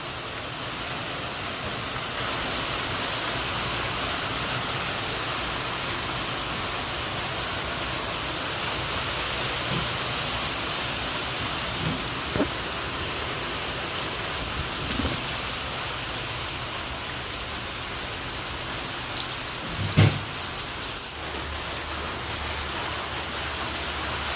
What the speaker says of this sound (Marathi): किती छान असा पाऊस सुरू झालेला आहे